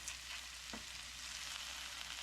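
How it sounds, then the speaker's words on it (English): Potatoes sizzle as they fry in a pan for a cheap breakfast, giving a steady, close crackling hiss throughout with no talking. "Potatoes go in. Listen to that sizzle."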